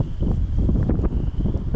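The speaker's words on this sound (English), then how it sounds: "It's only slightly windy" Light wind buffets the microphone in uneven low rumbles beside a fishing pond, with a faint steady tone in the background.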